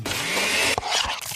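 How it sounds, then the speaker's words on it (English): A blender whirs loudly through a fresh smoothie bowl of sliced bananas, berries and ripe mango, a steady grinding roar that cuts off abruptly near the end, followed by brief clatter. "That's the sound of a smoothie bowl being made fresh"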